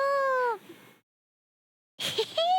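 Minky, a pet cat, gives two close, clear meows separated by a short silence, each a drawn-out, slightly falling cry.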